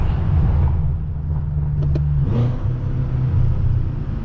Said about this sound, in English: I hear my car sounding like that. I hear the turbo spool